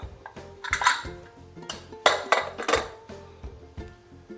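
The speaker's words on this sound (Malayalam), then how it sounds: "ഇനി നമുക്ക് ഈ കുക്കർ ഒന്ന് തുറക്കാം" A pressure cooker of boiled coconuts being opened, with metal lid and pot clanking and clinking in irregular bursts close by, several sharper metallic knocks mid-way, no talking.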